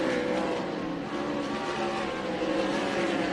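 360 wing sprint cars race around the dirt oval at Central Arizona Raceway at night, a steady, fairly distant engine drone with layered revving from several cars strung out across the track.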